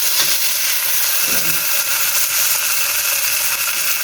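A whole tilapia fries in hot oil, giving a loud, steady, close sizzle and hiss with no break, with a few faint clinks and no talking.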